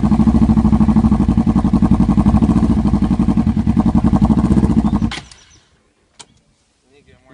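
A motorcycle engine runs at a loud, steady idle with a throbbing pulse while a rider learns throttle and clutch control. It then abruptly cuts out, followed by a few faint clunks and near silence.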